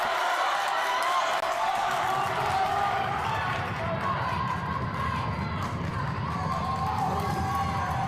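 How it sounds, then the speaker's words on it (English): Home crowd noise at a women's college basketball game between the Brunswick Dolphins and Cape Fear, a steady arena rumble with sneakers squeaking and a ball bouncing on the court while a commentator talks over it. "The home crowd making some noise, trying to disrupt"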